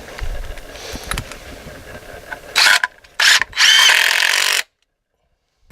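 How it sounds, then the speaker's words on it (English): A power drill drives Tapcon screws into masonry to mount a hurricane-damaged garden gate, heard as loud, close whining bursts of a few seconds each after softer handling clatter, then sudden silence. "Well, I got all the Tapcon screws in."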